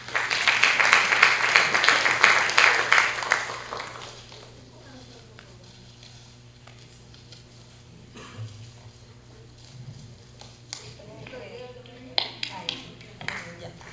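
A burst of applause from a seminar audience welcoming a speaker lasts a few seconds, then fades into quieter room noise with scattered taps and a few faint claps.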